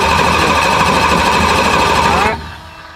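Engine of a car being prepped for the dyno, cranked over by its starter without firing, a loud steady whirring churn that cuts off abruptly near the end, with a brief spoken word over it.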